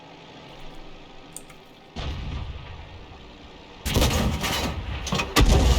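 Tank cannon fire in an online tank battle game, a sudden heavy blast followed by a sustained rumbling roar, then a second louder boom near the end, with no talking.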